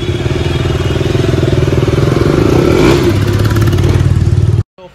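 A KTM motorcycle engine runs after repair work, a loud, close, steady mid-pitched thrum with rapid pulsing and a slight rise near the middle, cutting off abruptly just before the end.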